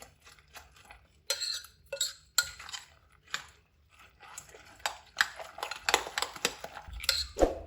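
A spoon scrapes and clinks against a bowl as ingredients for an egg breakfast are mixed, in irregular taps and swishes at a soft, close level with no talking.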